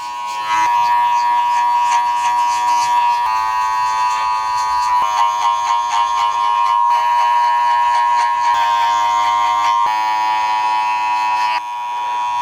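Electric hair clippers buzzing steadily close up as they cut hair in a perm fade haircut, a loud constant hum with small changes in pitch as the blade works through the hair.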